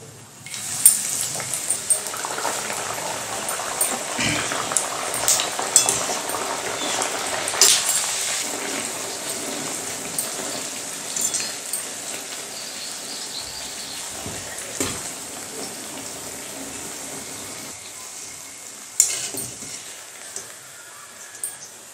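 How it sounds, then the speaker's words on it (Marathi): Bajra (pearl millet) puris deep-frying in hot oil make a soft, continuous bubbling hiss, with occasional clicks and knocks from handling, steady and fairly quiet over a long stretch without talk. "बाकीच्या सुद्धा तळून घेऊया।"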